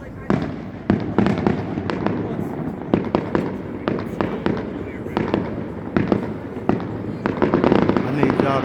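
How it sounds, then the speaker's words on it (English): Fireworks display at the DC waterfront during a Mardi Gras celebration: repeated sharp bursts and crackling pops, some in quick clusters, ringing out over a steady crowd murmur and nearby voices. "Firework display."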